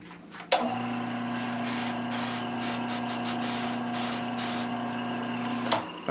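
A spray can hisses finish onto a wood lathe in a series of short bursts of varying length over a steady machine hum, with a sharp click at the start and end.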